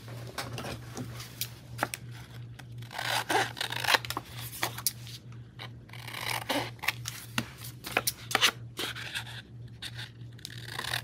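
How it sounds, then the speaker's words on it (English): Scissors trimming around the back edge of a layered paper belly band tag, heard as a series of close, crisp snipping and rubbing sounds scattered over a steady low electrical hum, with no talking. "now I'm going to go around the back. And I'm going to trim it."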